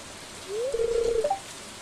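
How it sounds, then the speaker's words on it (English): Rain falls in the video game Stardew Valley as a soft, steady hiss, with a brief rising tonal chime over it partway through. "watching the curtains of rain whisper above a silent lake"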